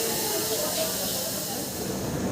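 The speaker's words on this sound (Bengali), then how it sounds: "এই দেখেন আমার ট্রেন এসে গেছে।" A superfast Ernakulam-bound train pulls into a railway platform in Tamil Nadu with a loud, continuous rushing hiss and rumble, voices mingling underneath.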